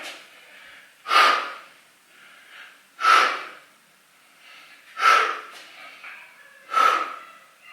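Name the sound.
exercise breathing in and out during lunges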